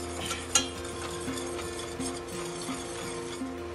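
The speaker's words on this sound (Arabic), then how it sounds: "وببتدي احط عليه الدقيق، بقلب الدقيق معايا كويس" Flour being stirred into hot oil in a pan, a steady low frying hiss with soft scraping strokes of a spoon and a few light clinks against the pan, close and continuous.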